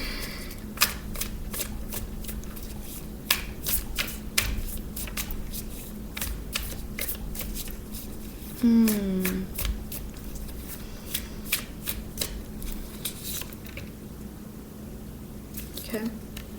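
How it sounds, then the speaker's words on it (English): Tarot cards are shuffled close up in a steady series of crisp riffles and flicks. A brief voice is heard partway through. "feeling a need to shuffle a little more."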